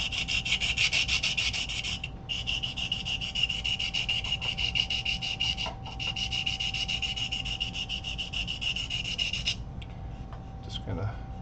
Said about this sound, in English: sand it until it's smooth, uniform.